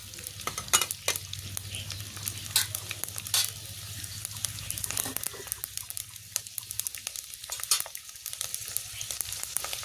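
Chopped garlic frying in hot oil for a Marathi safflower-leaf sabzi, a steady close sizzle with scattered crackles and stirring scrapes, no talking.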